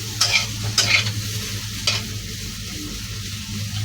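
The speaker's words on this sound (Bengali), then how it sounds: "আগে ফুলকপিটা সুন্দর করে ভেজে নেব" Cauliflower frying in a pan for a fish curry with potato, ginger and cumin paste: a continuous sizzle, with a few sharp scraping stirs of a utensil early on and one more midway, close and clear, no talk.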